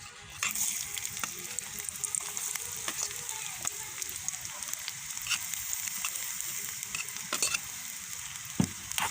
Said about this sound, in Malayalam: അത് ചൂടായിട്ടുണ്ട്. ഇനി നമുക്ക് എല്ലാ ഉള്ളി ഇട്ട് കൊടുക്കാം.